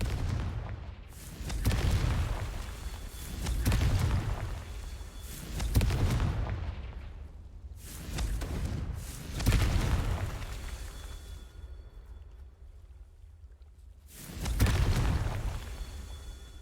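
Repeated Confringo blasting-curse explosions in the Hogwarts Legacy video game: about six heavy booming blasts, roughly two seconds apart with a longer gap before the last, each a loud low thump trailing into rumbling decay, with no talk.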